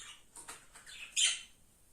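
Budgerigars chirping in quick, high-pitched bursts, with a louder squeaky call near the end; no talking.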